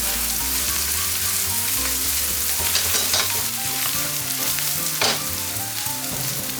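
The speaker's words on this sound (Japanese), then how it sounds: "塩を振ることで浸透圧により野菜の水分が出てきて早く炒まる。" Summer vegetables stir-frying in a pan with salt for a dry curry, giving a steady, close sizzle with scraping and stirring noises throughout, with no voices.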